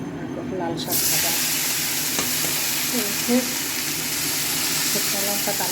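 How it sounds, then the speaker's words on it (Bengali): Dried red chillies frying in hot oil as a tempering, a sudden loud sizzle that starts about a second in and keeps hissing close by, with spatula stirring and a little background voice. "শুকনো লঙ্কা কালো করে ফোড়ন দিলাম"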